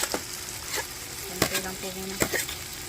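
Carrots go into a pot of soup cooking behind a house next to a bahay kubo, with a soft simmering hiss broken by a few sharp utensil knocks and clinks close by, and no voices.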